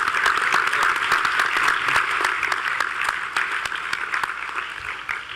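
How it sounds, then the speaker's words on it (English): Audience applause at a New York State wine, beer, spirits and cider summit: a crowd claps steadily and warmly for about five seconds, gradually thinning toward the end. "let's give him a round of applause and thank him"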